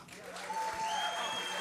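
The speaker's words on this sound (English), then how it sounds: "A big, big thank you and a big round of applause, please, for the Regent Theater" A theater audience at the Regent Theater claps steadily and fairly loudly at a tribute show, with a thin whistle rising over the dense, continuous applause.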